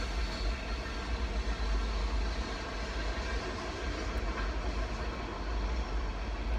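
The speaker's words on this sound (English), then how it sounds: "That's a long train." A long train rolls steadily past, a continuous loud low rumble and rail noise that holds without break for the whole stretch, with no one talking over it.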